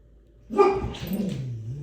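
A dog barks once nearby after a short silence, then lets out a drawn-out whining yelp that trails off.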